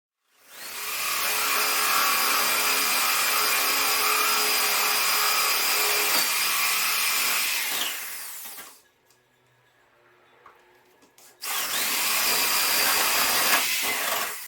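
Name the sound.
drill boring holes in a layered wooden drum door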